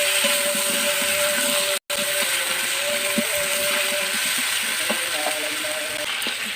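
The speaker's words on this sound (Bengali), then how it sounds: "একটু ভালো করে মিশিয়ে ভাজা করব" Vegetables frying in a pan with salt and turmeric, a steady close sizzle with a few light scraping and clinking sounds from stirring, and one brief silent gap.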